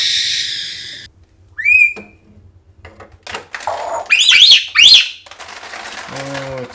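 Three pet parrots chattering and whistling in the morning, with bright rising whistle calls and squawks in short bursts close by, mixed with scattered household clatter and brief human voice.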